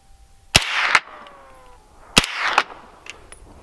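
Two sharp, loud gunshots fired at an oxygen tank inside a car, each followed by a ringing, metallic after-burst, with quiet gaps between the shots.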